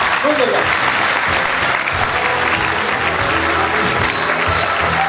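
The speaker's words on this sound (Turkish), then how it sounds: "Birol Güven'i güçlü alkışlarla sahneye davet ediyoruz" Loud, sustained crowd applause fills an award ceremony hall in Darıca as producer Birol Güven is welcomed to the stage, with a faint voice under the clapping.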